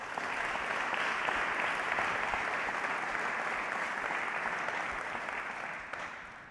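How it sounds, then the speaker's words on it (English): A large audience claps steadily for faculty and staff at an Army ROTC commissioning ceremony, a dense sustained round of applause that tapers slightly near the end. "let's give our faculty and staff a round of applause"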